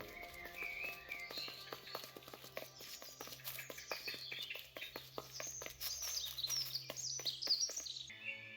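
Small songbirds chirp and tweet in rapid, overlapping calls within The Last Campfire video game, with a steady ambient hum beneath and no talking.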